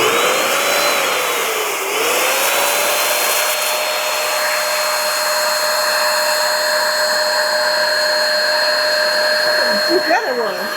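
A small handheld vacuum device hums steadily and loudly throughout, its pitch dipping briefly near the start, with a few faint clicks and handling noises at the very end.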